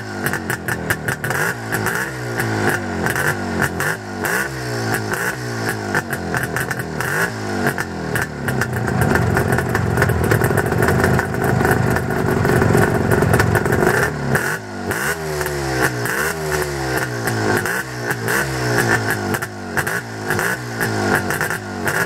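A restored 1972 Cossack Jupiter 3 sidecar motorcycle engine fires up and runs loudly nearby, with repeated throttle blips and rising, falling revs over a steady clattering idle.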